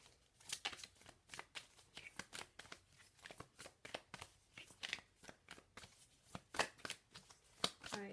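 Tarot cards being shuffled over and over, a steady run of crisp riffling snaps and papery flicks repeating every fraction of a second, close and quiet, alone without talk.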